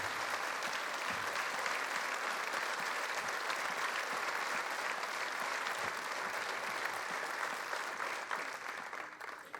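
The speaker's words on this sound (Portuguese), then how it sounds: "Queridos companheiros, um aplauso para eles também." A concert audience applauds for the orchestra arrangers at an anniversary show, a dense, steady wash of clapping held at even strength before tapering off at the close.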